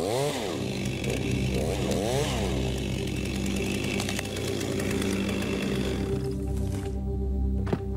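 A chainsaw runs in a forest, revving up and down in repeated rising and falling surges before settling into a steady loud drone and then dropping away near the end.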